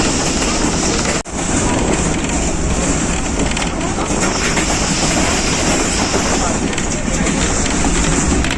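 The Jaffar Express passenger train runs at speed on the line toward Lahore, a loud, continuous rushing roar with rattling wheels and wind noise, briefly dropping out once early on.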